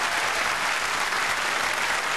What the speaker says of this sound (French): Avec un applaudissement encore plus nourri pour l'orchestre